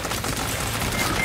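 A brief, quick burst of gunfire in an anime-style first-person shooter game, several rapid shots rattling close together at moderate loudness with no speech.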